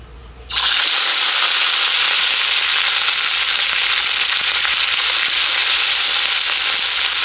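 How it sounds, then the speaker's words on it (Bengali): Onion, garlic and ginger paste hits hot mustard oil in a village kitchen pan, bursting into a loud, close, continuous sizzle after a brief quieter start. "এবার আমি দিয়ে দিচ্ছি পেঁয়াজ রসুন আদা বাটা।"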